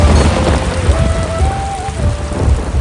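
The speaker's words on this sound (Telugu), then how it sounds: "అప్పటికప్పుడు ఆకాశంలో తీవ్రమైన మేఘాలు ఏర్పడి జోరున వర్షం కురుస్తుంది." Heavy rain pours in a dense, steady roar with low rumbling beneath it, while a faint sustained tone wavers above the downpour.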